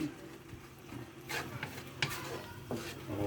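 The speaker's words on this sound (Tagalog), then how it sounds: "Haluin mo din natin" Spatula scraping and clattering in a pan as pepper and salt are stirred into mushroom sisig, several distinct strokes and metallic knocks over a quiet, gentle sizzle.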